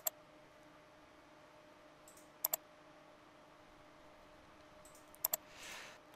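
Sharp, quiet mouse clicks on a software button, heard as a single click, then a quick double click, then another double click near the end, over a faint steady hum.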